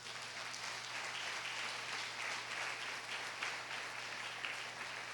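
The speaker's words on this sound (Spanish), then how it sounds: "¿Qué tal si le dan un aplauso al Señor?" A church congregation at a family service applauds, a faint, even wash of clapping from across the room over a steady low hum.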